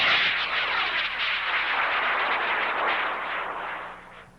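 A Bruce Kelly signature Bruiser EXP model rocket lifts off on a K500 motor at Battle Park. A loud, continuous rushing roar holds steady for several seconds, then begins to fade toward the end.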